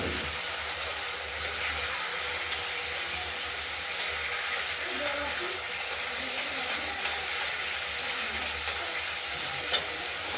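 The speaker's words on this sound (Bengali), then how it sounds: "মশলাটা কষিয়ে নিচ্ছি এই" Spice paste (masala) being stir-fried in a pan for rohu fish curry with potato and tomato: a steady, even sizzle with faint scraping of stirring throughout, close and alone.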